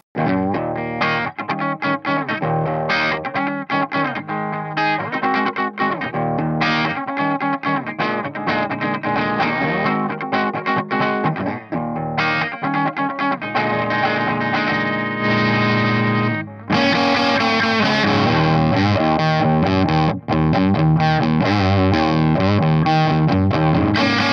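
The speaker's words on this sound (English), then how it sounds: "just give you a little taste of what this Valve Junior sounds like on its own" A heavily distorted electric guitar plays chords and riffs through an Epiphone Valve Junior tube amp with a Kasha QuikMod, loud and continuous, getting brighter and more saturated partway through.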